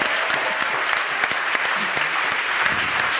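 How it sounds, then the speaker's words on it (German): An audience claps steadily for Robi Dambacher and Werner Dufner, two costumed performers, with thick, continuous applause and a few sharper individual claps standing out throughout. "Es ist euer Applaus, oh Robi und Werner."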